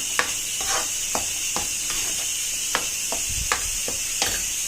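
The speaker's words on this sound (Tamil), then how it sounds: "இப்போ இந்த பைத்த மருப்பும் இந்த ரவையை நல்லா கிளறிடுங்க." Rava and cooked moong dal are stirred in a cooking pot for rava pongal, with a steady hiss and repeated scraping strokes about every half second, close by and with no voices.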